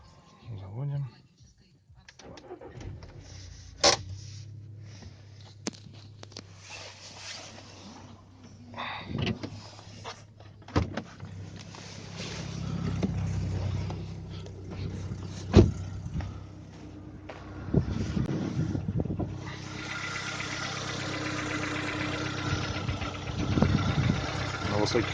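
A VW Touran with a 1.6 BSE engine, parked almost two days and suffering an engine knock, cranks, starts and settles into idle. The idle rises and falls around a few revs, and someone talks briefly near the car.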